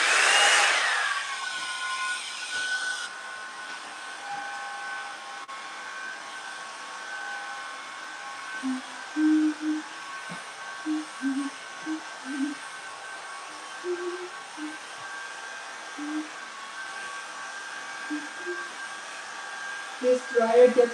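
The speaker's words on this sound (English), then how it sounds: "This dryer gets so hot when it is on the high setting." A handheld hair dryer runs on its high setting during a home haircut, giving a steady, continuous whirring hiss throughout. Faint thumps and rustles of handling sound beneath it.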